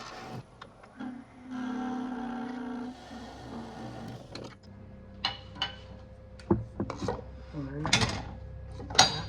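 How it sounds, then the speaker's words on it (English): A cracked, loose wooden tenon is pried and rubbed off the base of a closed-form wood-turned piece, giving scraping and rasping strokes, then a run of sharp cracks and snaps, close up with no speech. "let's go ahead and peel this rest of this tenon off"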